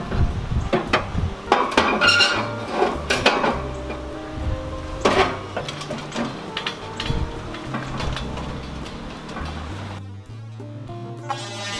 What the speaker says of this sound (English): just for some easy cleanup, I'm going to place this pan right down here underneath.